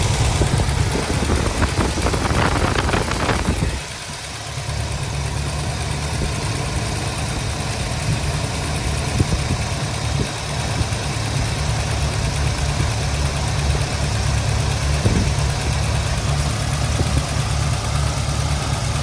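A rusty Chevrolet Nova's engine idles at a high, steady rev, loud and close, with a brief dip in the rumble a few seconds in before settling back.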